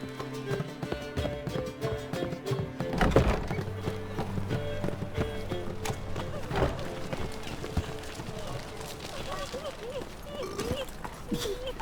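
Roach, Geralt's horse in The Witcher 3, gallops with steady clip-clop hoofbeats beneath background music, with a brief whinny and voices talking over the ride.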